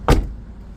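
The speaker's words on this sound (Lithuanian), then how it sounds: "Gerai užsidengia, užsidaro bagažinė." The rear hatch of a Volvo C30 slams shut once in a single loud, short thump, followed by a quiet stillness.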